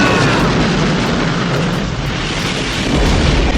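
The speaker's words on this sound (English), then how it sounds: "and explosions galore" Explosions in the action movie Double Impact form a loud, dense, continuous rumbling roar of blasts that fills the whole few seconds without a break.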